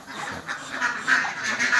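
A small flock of pet ducks, a male kept with females, quacking repeatedly in overlapping bursts at close range, loud and steady throughout with no talk.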